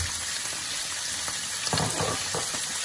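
Tuna fish frying with onions in a pan over low flame, a continuous close sizzle with a few stirring scrapes, no talk.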